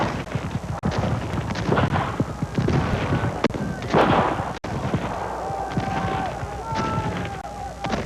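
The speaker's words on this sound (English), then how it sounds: "Union cannon opened fire." Heavy booming blasts and cracks of Union cannon fire at dawn punctuate a Civil War battle scene, with distant thuds, shouting voices, and a high whistling tone later on.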